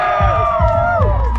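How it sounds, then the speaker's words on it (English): Crowd at a Mustang car event cheering and whooping in short loud bursts, with shrill voices rising over a broad roar. "Boston, Mass, cheer it up."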